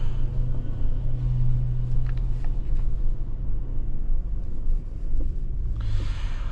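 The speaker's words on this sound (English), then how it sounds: "It's a very nice V8 kind of growl." Deep engine rumble from a 2026 Cadillac Escalade V with its V8 heard from inside while driving, a steady low growl with a swell of throttle partway through and road noise underneath, no talking.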